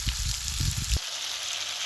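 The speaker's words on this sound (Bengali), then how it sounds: "তো টমেটো কষার সঙ্গে মশলাগুলো কষিয়ে নেব আমি" Tomato, cumin and ginger paste fries in a pan for a fish curry made without onion or garlic, giving a steady close sizzle with a heavier bubbling spurt in the first second that eases to a lighter hiss.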